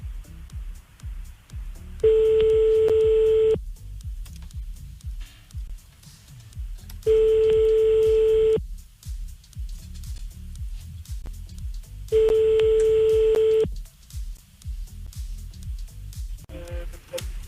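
Telephone line tones while calling back during a French radio show: three long, steady beeps evenly spaced several seconds apart, loud and clear over a low rumbling background, with no speech.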